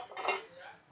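A brief metallic clink and scrape as a heavy metal idli pan is handled and set down, close and fairly quiet.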